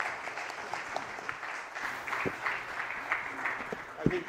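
An audience at a national leadership conference claps for a panel session, a fairly faint, scattered applause with a voice or two speaking over it.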